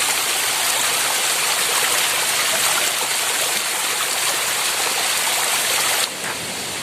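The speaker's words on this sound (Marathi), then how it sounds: "बघा इकडे पूर्ण पाणी पडतंय" Water pours over rocks at a Konkan stream in a loud, constant broadband roar that fills the whole clip, dropping slightly near the end.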